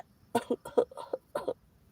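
A voice imitates coughing with a short series of quick, hoarse bursts separated by brief pauses, close to the listener.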